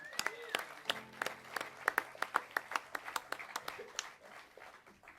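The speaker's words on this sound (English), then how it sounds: "give them a big round of applause." An audience applauds at a live lunchtime show by a Dixieland jazz band, giving a warm round of clapping with sharp, close hand claps over a steady crowd wash.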